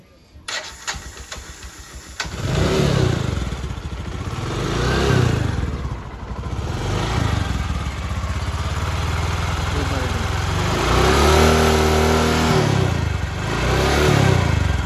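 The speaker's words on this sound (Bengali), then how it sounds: "ইঞ্জিন সাউন্ড কেমন হয় দেখি একটু।" A Bajaj Discover 125 motorcycle being shown for sale starts after a couple of seconds of handling noise, then runs loudly and close with repeated revs rising and falling over a steady idle.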